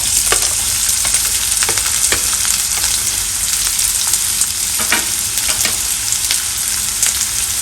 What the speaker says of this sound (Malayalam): നമുക്കിനി എണ്ണയ്ക്കകത്തോട്ട് സവോള ഇട്ടിട്ട് അത് വഴറ്റാം.